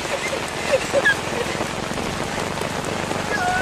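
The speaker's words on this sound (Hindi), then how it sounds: "लेकिन बारिश बहुत जोर से" Heavy rain pours steadily onto a road surface during a motorbike trip, a dense, close hiss with no pauses across the whole stretch.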